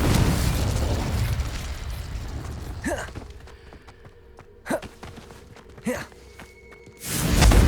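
Confringo and Incendio spells explode in Hogwarts Legacy: a rumbling blast fades out, then three sharp separate bursts ring out over a quiet hum, and a heavy roaring explosion swells at the end.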